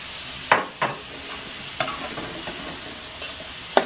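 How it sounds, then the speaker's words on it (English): Vegetables and sausage sautéing in a pan, with a handful of sharp scraping stirs over a low, steady background sizzle; no talking. "saute these all together until the veggies soften up a little bit and the sausage is cooked all the way through."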